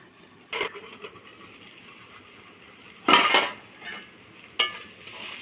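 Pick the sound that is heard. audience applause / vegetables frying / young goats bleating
vegetables frying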